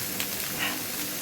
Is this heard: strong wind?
no